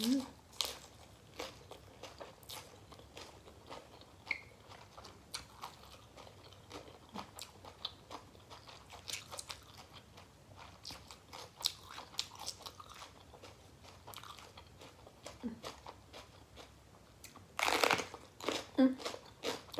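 Crunchy bites and chewing while eating Thai steamed mussels with spicy sauce and rice noodles, close and repeated through the clip, with a louder crunch burst near the end and occasional quiet talk.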